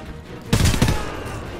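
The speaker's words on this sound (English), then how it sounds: "These are the weirdest sounding guns of the future." Futuristic gunfire from the video game Homefront: a short, dense burst of rapid shots starting about a third of the way in, loud and close, with a ringing tail and no talk.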